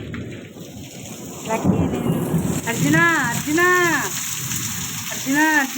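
Steady rainfall with deep thunder rumbling beneath it, loud and close, while a voice speaks over the storm.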